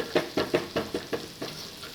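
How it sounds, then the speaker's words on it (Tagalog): Garlic fries in a pan until browned for macaroni béchamel, heard as a close sizzle broken by a rapid series of about eight rhythmic stirring scrapes. "Lunod na to ang ahos. Tapos ang pa-brown nun ang ahos."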